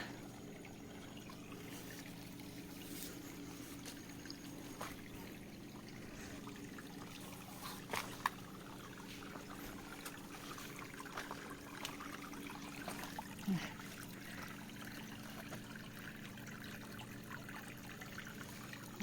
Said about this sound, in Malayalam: ഇതെല്ലാം ഉണ്ടല്ലോ ഭൂമിക്കടിയിൽ നിന്ന് വരുന്ന വെള്ളമാണ്